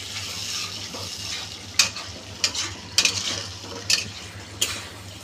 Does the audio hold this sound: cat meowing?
no